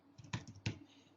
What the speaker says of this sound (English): I can say start here now by typing